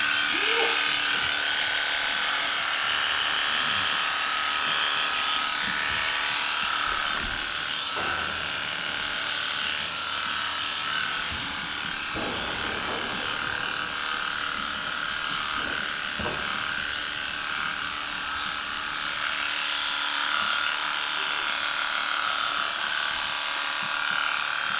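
An electric clipper buzzes steadily while shearing a horse's lower legs during grooming, a continuous close whirr with brief shifts in pitch as it moves over the hair.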